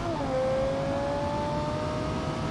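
A high-revving prototype Dodge Viper concept car, a 2020 build in a racing game, its engine whining steadily at high pitch with a slowly rising tone, loud and continuous throughout with no talk.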